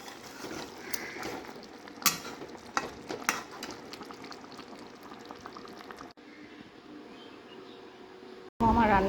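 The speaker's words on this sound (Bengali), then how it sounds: "এটা এখন কষিয়ে নিচ্ছি।" Curry being stir-fried in a pan gives a quiet kitchen sizzle with scattered scraping and clinking of a spatula, soft and low under a faint background, with a brief loud burst at the very end.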